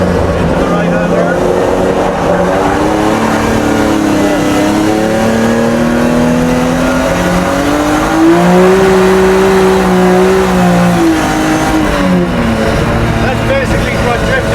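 A car accelerating and drifting on a track, its engine loud and close with rising and falling revs held over several seconds, while people talk over the engine noise.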